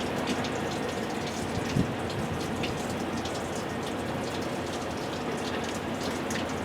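Water drains steadily through floor drain plates on a Polaris RZR, a continuous hissing, pattering rush close by that holds an even level throughout, with no talking.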